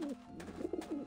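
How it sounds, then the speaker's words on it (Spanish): Pigeons in the video game Grim Fandango coo in soft, repeated throaty warbles, several short calls close together, heard clearly with no speech. "Y ahora alguna forma de atraer a las palomas hasta esto."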